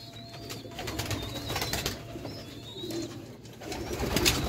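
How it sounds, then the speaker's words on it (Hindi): Teddy pigeons coo nearby in soft repeated rumbling calls, with light wing flutters and faint chirps around them. "दिखाओ भाई ज़रा टैडी कबूतर"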